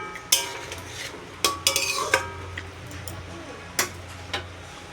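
Fish roe and potato curry stirred in a pot, sharp spoon clinks and taps against the metal rim scattered over a soft bubbling background, close and fairly quiet.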